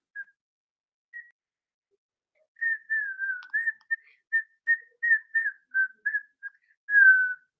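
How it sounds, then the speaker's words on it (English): A child named Cooper whistles the tune Mary Had a Little Lamb alone, a few tentative notes first, then a clear run of short pitched notes ending on a longer held one. "Mary had a little lamb whistled"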